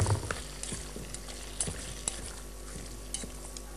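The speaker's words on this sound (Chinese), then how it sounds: "在出锅之前啊，我们拍两瓣蒜放进去，把它这个搅拌一下。" Braised pork belly with smashed garlic being stirred in a pan, a steady low sizzle under repeated light scrapes and taps of a utensil against the pan, close up.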